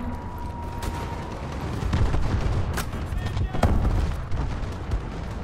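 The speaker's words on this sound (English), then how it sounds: "Enemy missile strikes." Battle din from a Call of Duty: Advanced Warfare Hardpoint match as enemy missile strikes land, with a steady roar of explosions and gunfire and sharp blasts near the middle and end, all loud and dense throughout.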